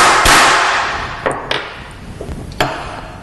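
A socket gently taps a part into position on a Triumph Stag engine during timing chain replacement with a Rimmer kit, giving a few sharp, light metallic taps spaced unevenly over a soft background hiss.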